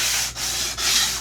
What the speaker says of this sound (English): full length strokes with the sanding block